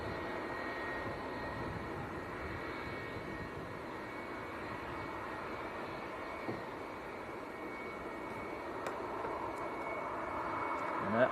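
A departing aircraft at Manchester Airport gives off a steady, broad jet-engine roar at a distance, holding level and swelling slightly near the end, with occasional talk over it.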